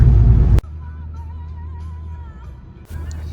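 A car drives along a road in Moldova, heading toward Chișinău in fine weather. A steady low engine and road rumble is heard from inside, with a faint whistling tone above it and short clunks at the start and near the end.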